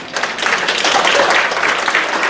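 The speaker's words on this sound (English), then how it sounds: "give these guys a round of applause" Students at an elementary school assembly break into applause, a dense burst of clapping that swells quickly and holds steady for a couple of seconds with no talking.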